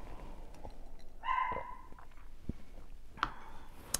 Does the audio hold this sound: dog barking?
yes